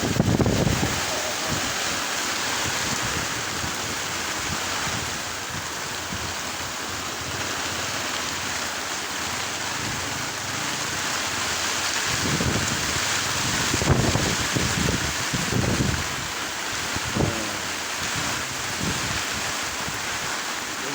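A west-monsoon storm batters a Ujung Kulon fishing boat at sea, with continuous heavy wind roar and driving rain hissing across the whole stretch and a few louder gusts and thumps near the end.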